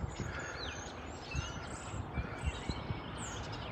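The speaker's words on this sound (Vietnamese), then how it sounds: "Nghe tiếng chim nghe, thấy không, quá trời chim không." Many birds chirp and call together in the morning after rain, a steady, faint chorus of overlapping tweets with no talking.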